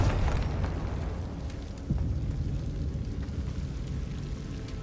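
A Confringo fire-blast spell exploding in Hogwarts Legacy gives a dense, rumbling boom with crackling debris. One strong burst at the start and a second at about two seconds settle into a steady low roar, with no voices.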